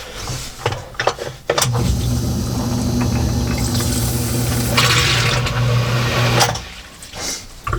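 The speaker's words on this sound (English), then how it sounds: "I'm going to go ahead and lift that up, and hopefully you'll be able to see this, and it's going to trigger the sump pump" A basement sump pump switches on and runs for about five seconds, a steady motor hum mixed with rushing water, then cuts off, with a few clunks around the start and finish.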